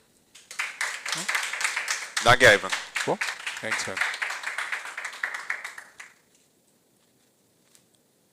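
Audience applause at a podcast recording, a dense wash of clapping lasting several seconds beneath voices talking, then stopping abruptly into near silence.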